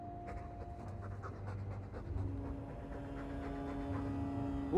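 A dog in the game Dragon Age 2 pants steadily with quick, soft breaths, close by and fairly quiet, with no talking over it.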